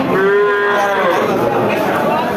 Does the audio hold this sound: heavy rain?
no